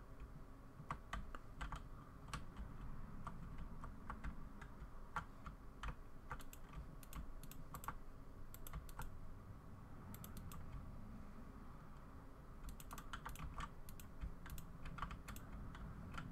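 Clusters of quiet computer keyboard and mouse clicks during PC gameplay, irregular bursts of taps over a low steady background hum, faint with no speech.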